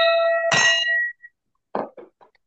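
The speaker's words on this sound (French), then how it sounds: "je sonne officiellement la cloche pour lancer la réunion" A bell struck to open a Rotary club meeting rings out loud and sustained for about a second, followed by a few softer clinks and knocks as it is set down.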